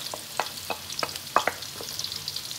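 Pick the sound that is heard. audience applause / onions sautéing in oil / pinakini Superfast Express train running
onions sautéing in oil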